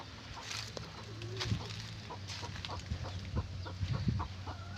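A pet hen clucks softly close by while her chicks and other fowl peep and coo around her in scattered short calls over faint background noise.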